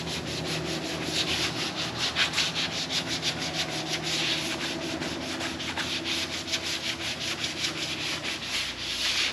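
A wooden block being sanded by hand, giving steady, continuous abrasive rubbing in quick back-and-forth strokes, close and fairly even in loudness throughout, with no voices.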